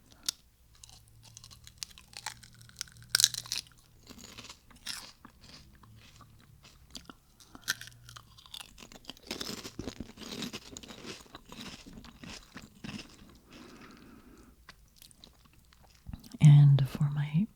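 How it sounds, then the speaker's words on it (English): Crisp, loud crunches and chewing of crunchy prawn crackers up close, with a soft whisper earlier and a few scrapes. "let's start with a very crunchy prawn cracker."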